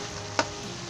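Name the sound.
chicken korma frying in a pan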